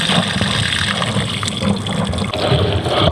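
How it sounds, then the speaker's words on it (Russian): Water pours out in a steady, continuous rush, close by, with a gurgling, splashing texture throughout, beside the Sinyaya River in Yakutia. "Вот так тоже льется"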